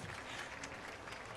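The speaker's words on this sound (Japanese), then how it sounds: "もう一度皆様大きな拍手で" Audience applause at a Tokyo Game Show exhibition event for a BlazBlue fighting-game match, a steady dense wash of clapping from a crowd, fairly faint and distant, with no talk over it.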